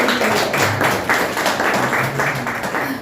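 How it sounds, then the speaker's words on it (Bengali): A room of students claps together for a classmate, steady mixed applause filling the space at an even loudness for a few seconds, with a faint murmur of voices underneath. "তার জন্য একটা হাত হাততালি হয়ে"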